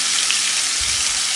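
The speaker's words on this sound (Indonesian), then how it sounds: "siapkan wajan, tambahkan sedikit aja minyaknya untuk gongsong bawang brambangnya" Ground shallots and garlic fry in a little oil in a wok, giving a steady, close, bright sizzle that continues without pause and with no talking.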